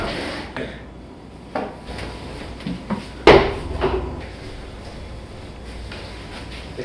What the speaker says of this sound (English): that's basically like a drawer hardware that's coming out